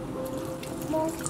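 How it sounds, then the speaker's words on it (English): Fresh blueberries being rinsed under running tap water, a steady close trickle and drip of water over the fruit, with no talking. "give them a wash"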